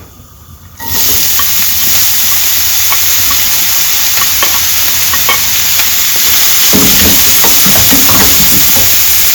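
Chopped onions drop into hot oil with cumin seeds, for a veg puff filling; after a quiet second, a loud, close sizzle and hiss bursts up and carries on steadily to the end, with faint stirring scrapes.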